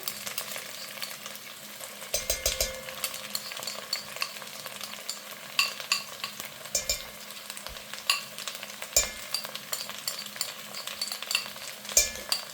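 A curry mixture tossed into a hot pan, giving a continuous loud sizzle and crackle of frying with repeated stirring scrapes and taps throughout.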